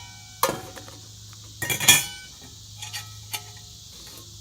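A metal grill plate for a Kelly Kettle Scout stove handled by hand, giving a few light metallic clinks and taps close by against a faint steady hum.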